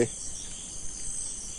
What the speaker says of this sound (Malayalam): ഈ ചീവിടിൻ്റെയും തവള കരയുന്നത് ശബ്ദം മാത്രം.